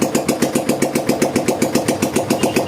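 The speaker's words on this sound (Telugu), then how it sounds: "ఎప్పుడైతే మనం బండి రేస్ చేస్తామో, బండి రేస్ చేయగానే ఇన్ని పాయింట్స్ చూపిదు." A motorcycle engine revving in short regular pulses while the battery charging is checked, a loud close mechanical throb with a fast, even rhythm and no talking.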